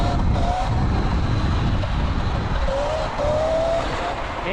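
A motorbike engine revs hard and steady while the rider pulls a wheelie, a loud close drone with rough wind rush that holds throughout, with a brief tonal whine as the revs shift.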